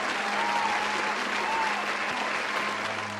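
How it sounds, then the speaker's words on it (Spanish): Sustained audience applause fills a TV-show-style stage in an X-Men video game set on Mojo World, a dense, steady clatter of many hands holding at even loudness throughout. "Esperen los aplausos."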